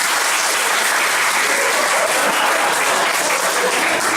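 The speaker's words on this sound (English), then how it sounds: "give her a round of applause." Loud, steady applause from a student audience at a freshers' week improv comedy show, a continuous wash of clapping with no break.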